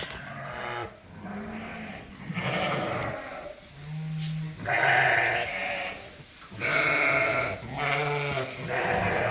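Flock of sheep inside a barn, several loud overlapping bleats in bursts with short pauses, some nearby and some farther off, no talking.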